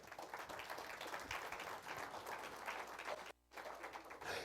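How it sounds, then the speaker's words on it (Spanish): A church congregation applauds during a sermon, a dense, steady wash of clapping that is heard faintly and from a distance, broken by a brief pause near the end. "Denle un aplauso al Señor."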